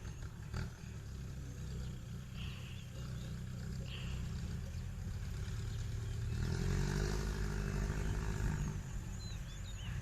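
Yanmar, Kubota and Iseki farm tractors idling together in a sugarcane field, a steady low diesel rumble that swells slightly louder partway through, with no talk.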